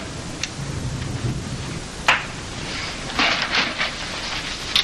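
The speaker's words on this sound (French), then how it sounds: "Ouais, il pleut pas mal fort, hein?" Heavy rain pours steadily outside as a broad hiss, with a sharp thunder crack near two seconds and rumbling surges later, and no voices.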